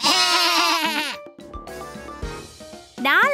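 A loud wavering bleat from a fluffy cartoon sheep opens, followed by quieter music-like tones, then another short bleat at the end.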